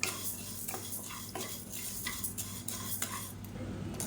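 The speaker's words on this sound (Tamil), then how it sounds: "இப்போ இது நல்லா பொன்னிறமாக வறுத்துக்கலாம்." Urad dal is dry-roasted in a kadai, a busy close scraping and rattling as a spatula stirs the lentils round the metal pan in repeated strokes, with a faint sizzle underneath and no talk.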